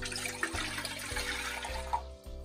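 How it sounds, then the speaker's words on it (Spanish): Four cups of water pour into a cooking pot in a home kitchen for broccoli soup, a steady close splashing and gurgling stream that cuts off near the end, with no one talking. "Vamos a empezar agregando nuestras 4 tazas de agua a una olla."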